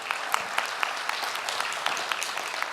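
Sustained applause from a conference audience at a blockchain event as a prize winner walks off stage, a dense wash of many hands with a few sharper claps standing out, steady and fairly close throughout.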